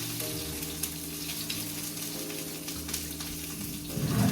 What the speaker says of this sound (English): add the parsley first into the oil